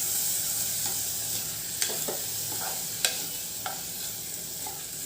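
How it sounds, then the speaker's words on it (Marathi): Washed rice stirred and fried in ghee in a pan, a steady soft sizzle with scraping spoon strokes and a few sharp clinks against the vessel. "हे तांदूळ देखील आपण तुपावरती छान परतून घेणार आहोत"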